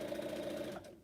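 A sewing machine stitches in the ditch with black thread across a black-background rainbow quilt, a steady close mechanical whir running loud for about a second before it slows and cuts off.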